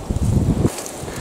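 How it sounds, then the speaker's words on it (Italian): Strong wind gusts outdoors in a wooded countryside setting, buffeting the microphone with a loud low rumble for about half a second before easing to a softer, steady rush. "sente che vento, oh. Fratello vento che batte forte."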